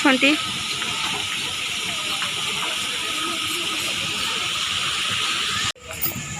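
Steady, loud rushing hiss of water from the artificial waterfall at Shilparamam, Hyderabad, continuous throughout and cut briefly near the end, with a voice heard faintly at the start.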